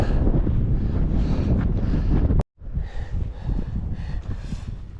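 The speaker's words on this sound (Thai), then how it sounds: "ลมแรงสุดๆ" Strong wind sweeps across a high plateau on the Annapurna Circuit trek. It roars hard against the microphone in loud, buffeting gusts, then cuts out for an instant before continuing slightly weaker, with no voices heard.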